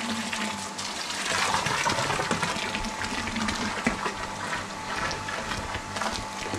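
Mature red wine being racked from a 250-litre vat gushes and splashes continuously between vessels, a loud, dense rush of pouring liquid with no voices.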